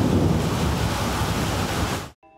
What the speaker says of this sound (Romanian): În Botoșani, norii amenințători anunțau o ploaie torențială.